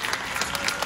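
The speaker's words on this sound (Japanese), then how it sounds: "皆さん一度大きな拍手を。" Brief burst of steady audience clapping at a BMX flatland battle event in Japan, dense and continuous throughout.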